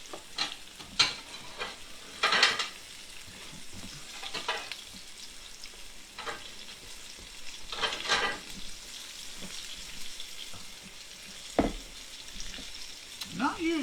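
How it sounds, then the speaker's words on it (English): Fish frying for fish and chips crackles and sizzles in hot oil, with occasional louder bursts of spitting and stirring scrapes, all fairly close and alone with no talking. "It don't take fish too long to cook"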